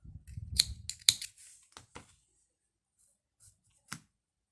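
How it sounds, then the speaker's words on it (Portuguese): Scissors cut crochet yarn for a crochet mandala necklace, giving a few quiet, crisp snips and small handling clicks spaced apart in an otherwise silent room. "E aqui eu vou cortar o fio."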